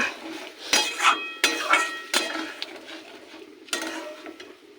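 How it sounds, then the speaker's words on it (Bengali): Boiled mung dal is sautéed in a pan with a little water, a metal spoon scraping and knocking against the pan in a steady series of close, clattering strokes. "দিয়ে ওটাকে কষিয়ে নেব।"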